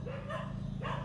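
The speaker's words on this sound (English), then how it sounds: "The dogs agree." Dogs barking indoors, a few sharp yips rising and falling over a steady low hum, moderately close and loud with no talk over them.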